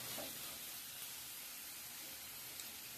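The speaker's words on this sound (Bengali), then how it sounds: "এইভাবে এখন আমি মিনিট 2 ভেজে নিব।" Garlic and vegetables (eggplant, peas and bathua greens) fry in a pan with a soft, steady sizzle, faint and even, no talking over it.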